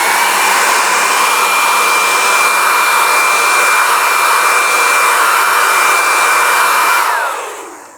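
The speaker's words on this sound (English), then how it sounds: "I'll hurry it up with a hairdryer" A hairdryer blows steadily and loudly with a constant whirring hiss for several seconds, then winds down as it switches off.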